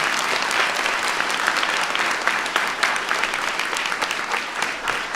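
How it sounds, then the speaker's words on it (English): An audience at the White House Science Fair applauds for several seconds, a thick, steady patter of many hands clapping with sharper individual claps poking through, tapering slightly at the end. "Give Olivia a big round of applause."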